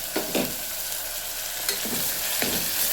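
Onions with green chillies frying in a pan, giving a close, continuous sizzle broken by several scraping stirs of a spoon across the pan.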